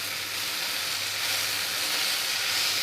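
Masoor dal tempering sizzles steadily in a pan with cumin powder, a continuous, even hiss with no talking.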